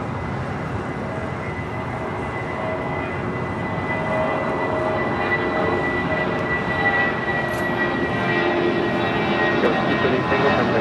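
Philippine Airlines Boeing 777-300ER arriving at LAX from Manila: a moderate, steady jet rumble with a faint engine whine builds slightly over the span.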